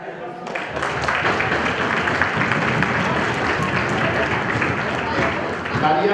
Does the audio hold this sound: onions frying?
no